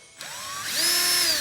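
A power drill spins up with a rising whine, then bites into a wood board with a steady, grinding buzz that holds to the end.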